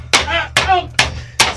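Four hard hammer blows striking wood to split it, spaced about half a second apart, loud and close, each one a sharp crack followed by a short ringing decay.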